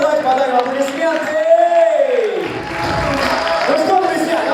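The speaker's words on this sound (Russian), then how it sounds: "Давайте подарим аплодисменты." Audience at a festive Chemist's Day concert applauds and cheers, a dense, steady crowd roar that lasts throughout, with a loud voice rising above it.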